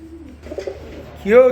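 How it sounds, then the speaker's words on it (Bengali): A Lotan pigeon at a pigeon sale gives a short, near, throaty coo, briefly mixed with a voice. "বাগবাকুম পায়রা বলে ডাকে"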